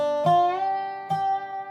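Dobro with the open high string sounding alone in a bluegrass lesson on Little Maggie; two bright resonator notes plucked close and clear, each ringing out and decaying, no talk.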